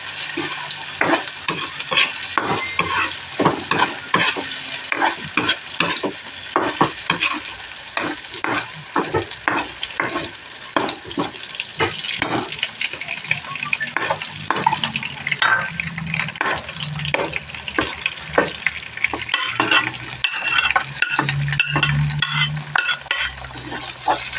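Hotdog frying in a pan for carbonara while a utensil stirs it, steady loud sizzling broken by repeated scraping and clinking strokes of the spoon against the pan, close and without talk.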